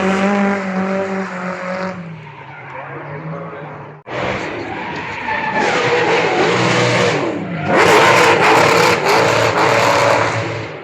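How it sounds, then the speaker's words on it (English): Drift cars at a Cadwell Park modified car event, engines revving hard and tyres squealing as they slide, loud and continuous with surges, alongside crowd noise and some talk. "I want to get some of the action and see what happens with the drift cars"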